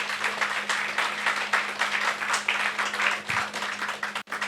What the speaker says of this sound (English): So I think the first clap is for TWC.